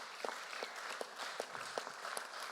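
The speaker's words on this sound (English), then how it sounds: "So also a big applause for all the finalists." Faint, distant clapping from an audience applauding the finalists at a 5G Hub event, thin scattered hand claps with individual sharp hits standing out against a soft background.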